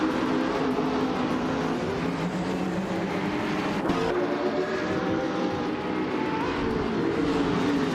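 A 2016 BMW M6 GTL race car engine roars steadily in a racing video game at Circuit Assen, a continuous loud drone with shifting pitch and overlapping engine notes throughout.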